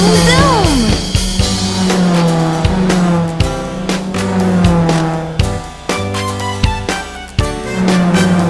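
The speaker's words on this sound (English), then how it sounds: "You rev your engines, fill your fuel, and then vroom vroom. Your tires screech and you take off." A cartoon robot car revs its engine and screeches its tires as a sound effect inside a children's song, the whining engine and squeal sitting over a loud musical backing.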